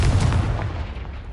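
A Confringo explosion spell fired at a pile of debris blocking a stairwell in the video game Hogwarts Legacy, heard as a deep, rumbling boom that fades out over about a second, with no voice over it.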